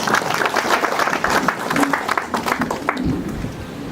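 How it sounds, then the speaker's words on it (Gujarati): Audience applause at a Kutch water temple programme in Bhuj, a dense steady clapping from a crowd that fills the space evenly for several seconds, with faint voices underneath. "તો એને આપણે એકવાર સૌથી પહેલા તાળીઓથી વધાવી લઈએ"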